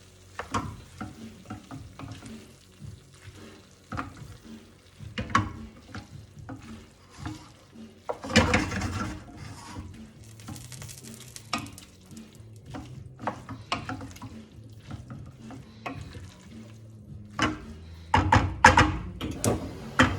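Pasta being stirred in a pot dressed with salt and olive oil on a shut-off burner: irregular scraping and clacking strokes, some louder bursts, close by with no talking.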